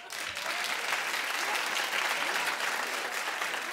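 Brisk clapping from a talk show studio audience fills a few seconds, a uniform burst of applause heard alone.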